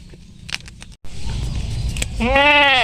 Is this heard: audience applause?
no